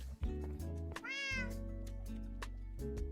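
A cat meows once in a video game, a single rising and falling call heard clearly over steady game music and low background tones.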